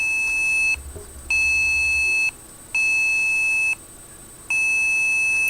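A steady high-pitched 2600 Hz electronic tone from a blue box sounds in four long bursts, each about a second and a half, separated by short silent gaps.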